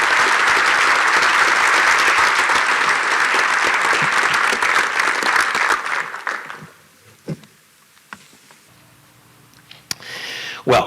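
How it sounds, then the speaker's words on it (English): Warm audience applause welcoming Dr. D.A. Carson at a TGC Inland Northwest gathering in Spokane: loud, dense clapping for about six seconds, then a quick fade to a few scattered claps and near silence. "let's welcome him with a real warm applause"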